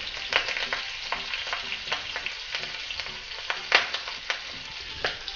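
Spices for a tadka crackling and spitting in hot oil, with sharp pops scattered over a steady sizzle, close and fairly quiet.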